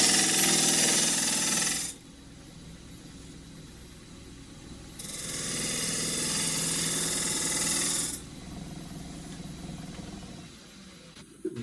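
A hard, dry camphor laurel bowl spins on a wood lathe, heard as a loud, harsh cutting chatter in two long bursts separated by a quieter hum of the spinning lathe, with no talk.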